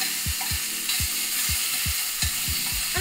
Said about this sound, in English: So I'm gonna drop it in. So we're gonna give this a quick saute.